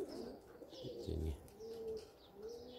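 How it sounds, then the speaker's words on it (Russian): Domestic pigeons with yellow leg rings, released in the early morning, coo in low repeated calls at close range, with some soft wing flutter and faint chirps around them. "Вот эти голуби по желтым кольцам."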